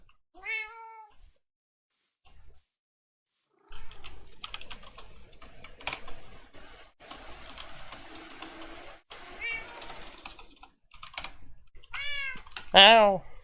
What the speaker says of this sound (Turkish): Bu arada şu kediler gelebilir mi artık?